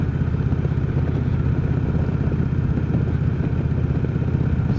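A motorcycle rides along a rural rustic road on a cool day, its engine droning steadily and close with a low, even rumble and some wind noise throughout, no voices.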